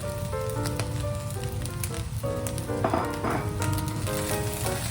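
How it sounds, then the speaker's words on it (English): Bacon sizzles and crackles steadily in a hot pan on high heat, a loud, dense frying hiss with scattered pops, heard close up with no talking. "And now I'm going to add my bacon. Here's my bacon back in."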